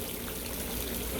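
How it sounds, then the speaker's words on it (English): Fresh water from a garden hose pours steadily into an Intex rectangular above-ground pool, a loud constant splashing rush with no pauses or voices. "because it is fresh water just going into the pool"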